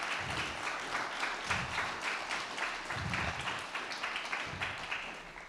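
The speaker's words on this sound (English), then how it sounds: "which I think calls for another round of applause." A faint, sustained round of applause from the audience at an evening event honoring a long-married couple, with steady clapping throughout.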